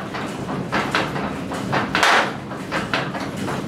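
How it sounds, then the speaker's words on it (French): Small hammers knock inside the grain sorting and cleaning system of a water mill, irregular wooden taps and thuds over the steady rumble of machinery, with no talking. "Les petits marteaux que vous entendez de temps en temps, c'était pour faire décoller quand c'était collé."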